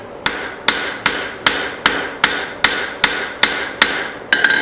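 A hammer strikes hot steel on an anvil to smooth out leftover peen marks, ten sharp ringing blows at a steady, even pace, close and loud, with no voices.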